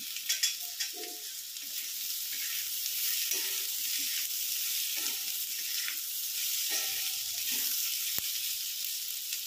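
Cashews, spices and potatoes fry in oil in a pan, giving a soft, continuous sizzle with light crackles and a few brief stirring scrapes, fairly quiet and without talk.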